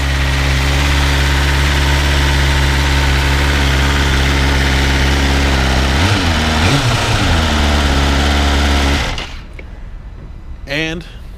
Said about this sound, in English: I will give you guys a start up with the stock exhaust.